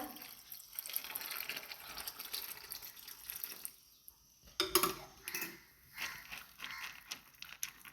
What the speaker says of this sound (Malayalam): കുറച്ച് വെള്ളം ഒഴിച്ച് കൊടുക്കുക